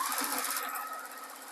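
A sewing machine runs steadily, stitching slowly around the edge of a fabric sewing machine cover with a groovy flower design, a continuous close motor whir that eases slightly in loudness.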